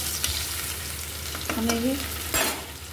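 Onions and potatoes fry in a pan with a soft, steady sizzle, broken by a few brief stirring scrapes and clinks of a utensil.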